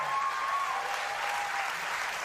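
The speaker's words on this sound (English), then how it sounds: "And then that crowd goes crazy" A crowd applauds and cheers in a thick, even wash of clapping that carries steadily across the short span, with a faint whistle-like tone near the start.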